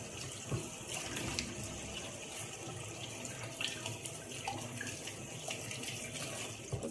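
Water pours steadily from a tap into a sink during handwashing, a faint continuous splashing rush with small bursts of hands moving under the stream.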